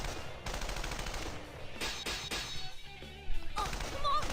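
Rapid bursts of gunfire from heavy artillery at barricades in a hallway in the fighting game Persona 4 Arena, steady and dense throughout with sharper cracks near the end, under a layer of game sound and some voice.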